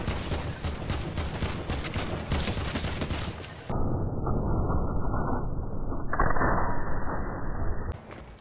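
A drum shotgun fires in rapid repeated blasts in a video game, loud and close, followed by a dense, sustained burst of game gunfire and mechanical noise.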